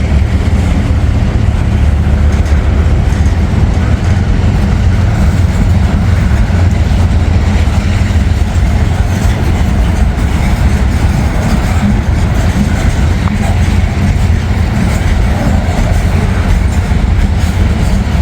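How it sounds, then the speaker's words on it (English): Freight train locomotives rumble past nearby in Northern Kentucky, a steady, loud low-pitched roar with faint rail clatter that holds unbroken for the whole stretch, with no talking over it. "Man, listen to those locomotives."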